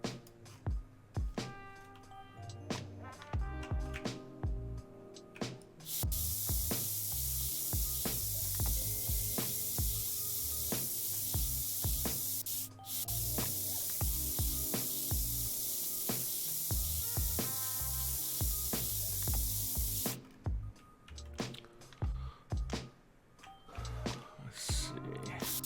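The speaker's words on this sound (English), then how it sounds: "Now with airbrushes, there's always going to be a little bit of overspray." In a model-building video game, an airbrush sprays paint in long, steady hissing bursts, two extended blasts broken by a short gap, with clicking sounds and quiet talk around them.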